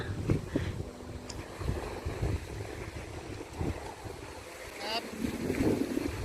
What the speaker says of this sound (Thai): แต่ได้ยินเสียงคลื่นเสียงลมค่ะ